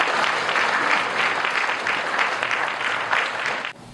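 An audience at a Korean Provisional Government commemoration ceremony applauds steadily for several seconds, a full, even clapping that fades out at the end.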